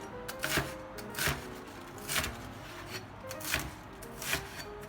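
A knife chops sawi greens into small pieces on a board, about six crisp, evenly spaced cuts ringing out at a steady rhythm against a quiet background.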